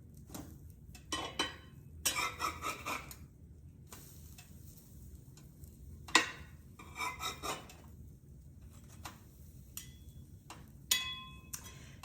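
Cinnamon fritters are turned over in a frying pan: scattered scraping and rasping bursts of a spatula against the pan, with soft sizzling and a few light clicks, fairly quiet and close, with no talking.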